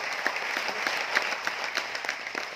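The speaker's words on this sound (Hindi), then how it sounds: "ताली जोरदार वाली बजाएं सर" A large audience at a business leaders' gathering in Aurangabad, Maharashtra applauds energetically, dense continuous clapping with no voices over it.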